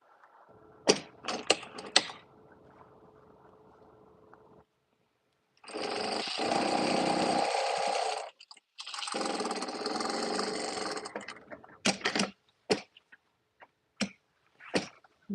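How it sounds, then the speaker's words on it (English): A sewing machine stitches fabric in two sustained whirring runs of a few seconds each, with quick clicks and taps from handling the fabric before and after. "Just sewing away, sewing away."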